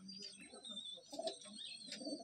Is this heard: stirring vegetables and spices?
no